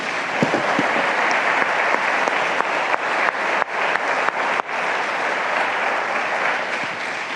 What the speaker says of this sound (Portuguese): Eu queria que você desse um grande aplauso a Jesus por isso.